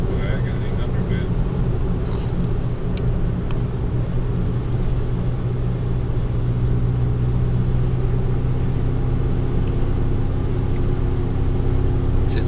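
A Saab 9000 cruises on a dry road, its steady low engine drone and road rumble filling the cabin continuously while someone talks over it.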